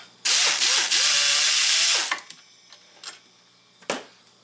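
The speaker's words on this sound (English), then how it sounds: "Let's spin it out with a little air ratchet" An air ratchet spins out a front wheel bearing bolt on an Audi A8 D4, a loud close whirring burst of about two seconds followed by a few light metallic clicks and taps.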